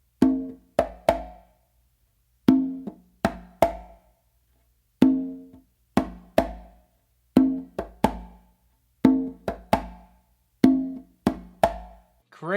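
Conga mambo tumbao, a rested non-dominant hand ghost note under close slaps from the dominant hand; a repeating pattern of sharp, close slaps and rounder tones, played alone and near.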